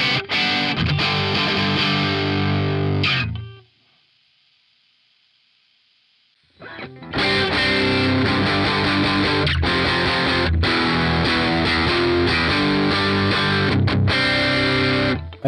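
Electric guitar played through a Valeton GP-100 distortion with an IR cab sim, loud dense distorted riffing that cuts to a silent gap for a few seconds, then resumes heavily to the end.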